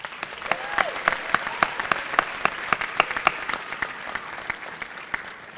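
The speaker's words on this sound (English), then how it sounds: "please give yourself a round of applause for this outstanding accomplishment" An audience at a graduation celebration applauds the graduating class, with sharp individual claps standing out above a steady bed of crowd clapping throughout.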